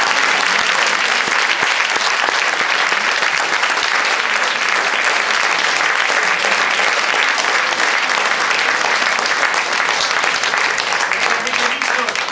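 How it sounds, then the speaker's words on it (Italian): A big round of sustained applause from an audience at a live stage event, dense clapping at a steady loud level throughout with no break. "allora chiedo un ulteriore grande applauso"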